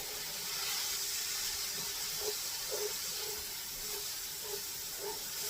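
Butternut squash sizzling in a frying pan, a steady broadband hiss with faint crackles and small pops throughout, fairly close and continuous.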